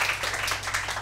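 A quiz show audience breaks into dense, continuous applause, many hands clapping close together in a brief, loud burst.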